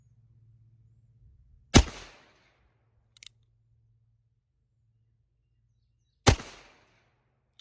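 Two sharp, loud revolver reports from an Uberti Cimarron 1851 Colt Conversion ring out several seconds apart, each with a brief decaying echo, plus a small click between them over a low background hum.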